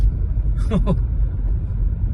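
Vehicles on a mountain road from Mukteshwar toward Delhi after fresh snowfall, a constant loud low rumble of engines and tyres in heavy traffic, with a brief nearby horn-like tone rising above it.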